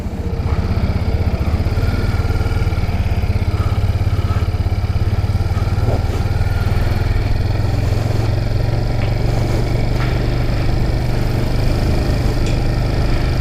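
A 2017 Suzuki TU250X motorcycle engine drones steadily and loudly throughout, a constant close rumble while riding with little change in pitch.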